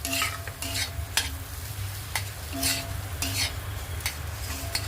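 A spoon scrapes and stirs a mashed boiled potato filling with coriander, for Maharashtrian bread patties, as it sautés in a pan. The strokes come in a rhythm over a soft steady sizzle, close up.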